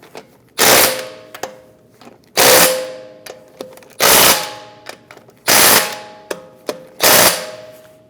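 A power wrench snugs lug nuts onto a 2010-2015 BMW X1 xDrive front wheel during a brake job, five loud rattling bursts about a second long, evenly spaced, with small clicks between them.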